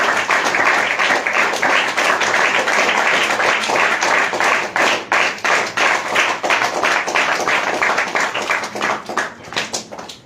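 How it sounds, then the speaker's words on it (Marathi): A prayer-meeting congregation claps together in a steady, dense rhythm, many hands close and loud throughout, thinning slightly toward the end. "आनंदाने टाळी वाजवली पाहिजे"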